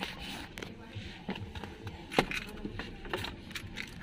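Car key for a Mitsubishi Strada pickup being handled, light metallic jangles and clinks scattered through the clip, close but faint, with quiet background noise.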